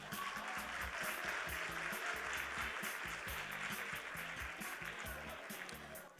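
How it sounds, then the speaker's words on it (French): Audience applause at the finale of the Créo'la 2018 pageant, a dense, steady wash of clapping from a crowd that holds at an even level for several seconds and fades slightly at the end, heard at a moderate distance. "je vous demande de vous applaudir"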